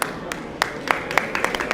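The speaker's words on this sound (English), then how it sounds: "Give him rounds of applause." Scattered audience clapping at a community iftar gathering in Minnesota, a few sparse separate claps rather than full applause, close and brief.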